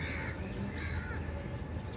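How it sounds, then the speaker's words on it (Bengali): A crow caws a few times at a distance over a constant low rumble of background noise, on a foggy winter morning. "এটা কাক"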